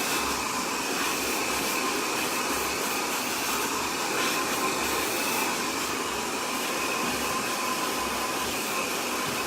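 Hair dryer fitted with a nozzle blow-drying short pixie-cut hair with a brush, a steady loud broadband whoosh held for the whole stretch without a voice.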